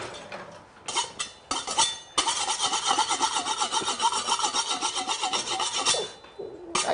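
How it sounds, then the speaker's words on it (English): A kitchen knife being sharpened while jollof is cooked, with rapid rhythmic rasping strokes that start in short bursts and then run continuously for several seconds, close and fairly loud, with no talk. "I'm sharpening my knife."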